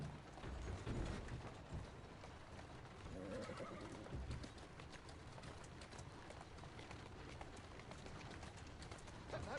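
Horse in the Assassin's Creed Syndicate video game, a whinny and hoof clatter mixed into steady game ambience and music, moderately loud throughout.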